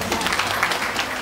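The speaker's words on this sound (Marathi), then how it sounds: "ज्यांनी आणलं, जे आले त्यांसाठी टाळ्या वाजल्या पाहिजे." Audience applause at a business guidance gathering of a Maharashtra bazaar cooperative: a short burst of steady, dense clapping from a seated crowd, filling the space without voices.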